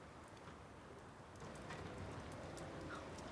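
Steady rain falls outdoors as a soft, faint hiss of drops that swells slightly partway through, with no voices.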